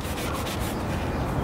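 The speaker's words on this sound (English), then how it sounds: "You can put it straight up against it and push into it and sand" A sanding sponge rubs back and forth along a rubber edge on a car being prepared for spray painting, with a continuous gritty scraping, close and steady.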